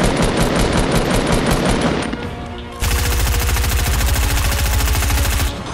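Rapid automatic gunfire in the Fortnite Battle Royale video game, loud and continuous. It is interrupted by a brief shift in tone before another sustained burst of fast shots.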